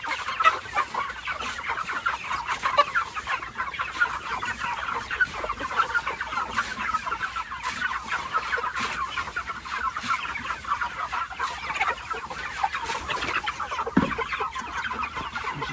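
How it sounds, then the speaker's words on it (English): A flock of chickens feeding on the ground cluck and chatter continuously close by, a dense, busy layer of overlapping calls with occasional louder squawks. "we throw our feed right on the ground."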